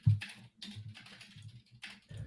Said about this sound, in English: Pete, you're typing away pretty fast here.